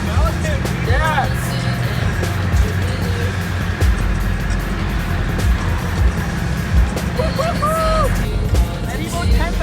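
A 2003 Honda S2000 races alongside an Evo 10, its engine droning loudly and steadily from inside the car with rising and falling revs and road roar, while people talk over it.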